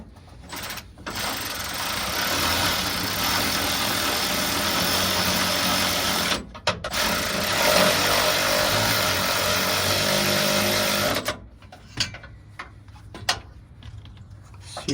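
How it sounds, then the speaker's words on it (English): A Milwaukee cordless ratchet whirs in sustained bursts while fastening a Z1 Offroad exhaust on a Nissan Frontier, the motor running steadily for several seconds, pausing briefly, then running again before a few short clicks and stops. "If you guys don't have one of these Milwaukee little ratchets, I highly recommend it."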